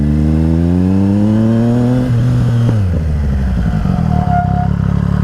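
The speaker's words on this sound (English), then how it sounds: "if your ABS is kicking in while you're emergency braking, that means you're pushing it really hard" A motorcycle brakes hard in an emergency stop with ABS engaging, the loud close engine pitch sliding down as it slows, with clattering and pulsing near the end and no talk.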